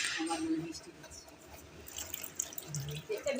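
Water is poured off boiled chow mein noodles in a home kitchen, a soft splashing trickle running steadily and fairly faint, with light clinks of utensils and a voice talking over it.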